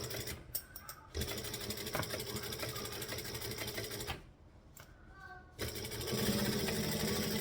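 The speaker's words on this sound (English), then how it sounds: "So now I'm going to stitch all the way around" A sewing machine stitches fabric slowly, its motor running in quiet stretches of steady whirring that stop and start again with brief pauses between them.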